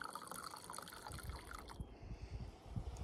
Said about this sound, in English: I'm gonna pour us some wine.